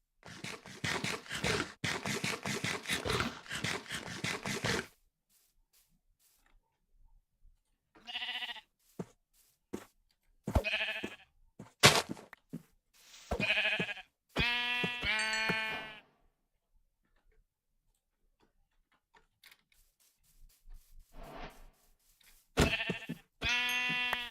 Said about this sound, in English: Okay, there should be one less white sheep.